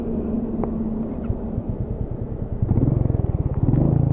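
A Royal Enfield Meteor motorcycle engine restarts after stalling on a mountain road, settling into a loud, close single-cylinder thumping idle that strengthens and grows more rhythmic toward the end.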